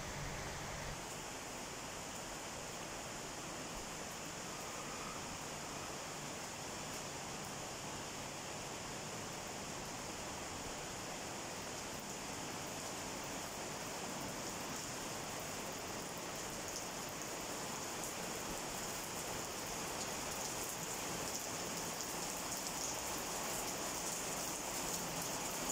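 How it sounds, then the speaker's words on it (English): Early morning rain falling in Zhuhai, a soft, even hiss of drops on surfaces that holds steady throughout, distant and faint with no voices. "it's a nice rain out this morning"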